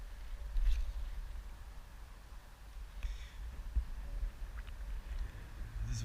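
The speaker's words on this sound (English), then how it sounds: "This wind is just annoying everything." Wind gusts and buffets a microphone outdoors while fishing from a boat, producing uneven low rumbling with occasional soft knocks and rustles.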